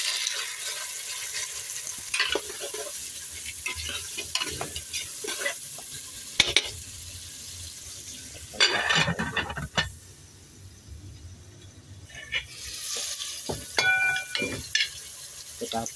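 Chayote and beef sauté in a pan, with a steady sizzle under repeated scraping stirs and clatters of the utensil, close and moderately loud.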